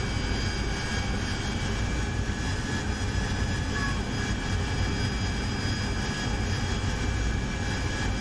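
Jet aircraft engine on descent in the DCS flight simulator, nozzles being adjusted to slow down, a constant loud broadband roar with a steady whine that holds level throughout, no talking.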